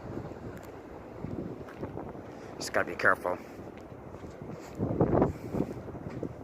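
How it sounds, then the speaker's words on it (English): Gusty wind buffets the microphone with low rumbling bursts near a Chicago beach during a lightning storm while a person speaks briefly, the roar swelling louder toward the end. "So if you hear the wind here, I'm completely sorry."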